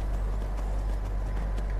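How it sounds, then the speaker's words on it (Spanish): In Skyrim on PS4, a horse climbs a hill with a continuous clatter of hooves buried in a loud, steady wash of game ambience. "Trepa y trepa el caballo."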